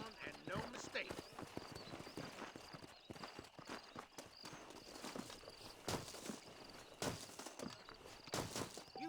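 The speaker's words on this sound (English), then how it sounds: "This steed looks right tetchy, I don't mind telling." Horse hooves clip-clop steadily in the Red Dead Redemption video game, a continuous rhythmic walking gait over a faint outdoor ambience.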